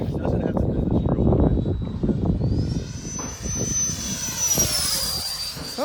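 A Freewing 80mm T-33 RC jet with an inrunner electric ducted fan flies in a bumpy crosswind at a field. Its loud, steady turbine whine rises and falls in pitch as it passes, with voices talking over it.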